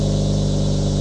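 Exhaust of a 2024 Acura Integra Type S sports car in sport mode, a steady loud low droning engine note with no clear rev swells, heard alone for about a second.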